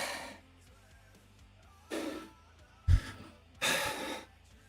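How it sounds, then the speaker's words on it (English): Several heavy, breathy exhales and gasps come in separate bursts with quiet pauses between them, close to the listener. "I apologize for the heavy breathing."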